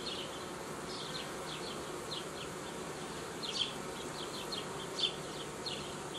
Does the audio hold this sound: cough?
no